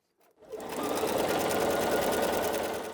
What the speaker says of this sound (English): So I'll start a few, maybe a stitch or two above the line, and then come right onto the line